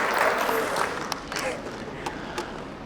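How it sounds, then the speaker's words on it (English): Audience applause at a Pan-African prize ceremony in Addis Ababa honouring African kings and leaders, a dense wash of clapping that gradually thins into a few scattered claps, with faint voices mixed in. "A big round of applause."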